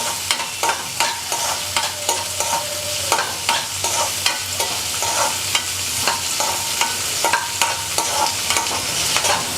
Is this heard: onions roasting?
yes